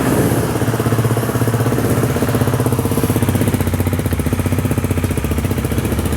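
A KTM Duke 390 idles through an Akrapovič slip-on exhaust fitted with a dB killer, giving a close, even, rapid chugging beat that stays steady and alone throughout.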